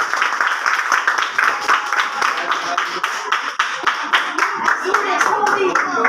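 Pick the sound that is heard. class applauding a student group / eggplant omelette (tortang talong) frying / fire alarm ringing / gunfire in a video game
class applauding a student group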